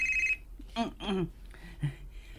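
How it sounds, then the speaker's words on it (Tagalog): A cellphone rings with an incoming call, a short electronic tone heard briefly at the start, followed by voices speaking. "Bagting akong cellphone. Si mama nawag."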